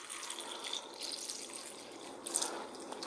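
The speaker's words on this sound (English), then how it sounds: "we're just going to simulate that by pouring some tap water in here" Tap water pouring into a container, a faint, steady splashing trickle with a slight surge near the end, heard alone without talk.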